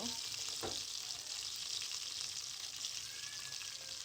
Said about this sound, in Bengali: চিকেনটা আমি ভালোভাবে একটু ভেজে নিচ্ছি বাদামি কালার করে।